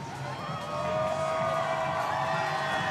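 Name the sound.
crowd cheering at kayak marathon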